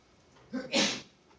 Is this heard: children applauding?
no